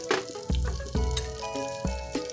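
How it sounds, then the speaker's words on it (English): Milk poured into a pot of melted butter sets off a soft, low sizzle, broken by a few sharp clinks and knocks at irregular intervals. "you want to add in your milk"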